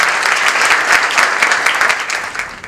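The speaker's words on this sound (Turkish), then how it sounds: "alkışlarımızla sahneye davet ediyorum" Loud, dense audience applause welcoming a speaker to the stage at a hospital breast cancer awareness event, many hands clapping steadily and close, continuous throughout with no speech.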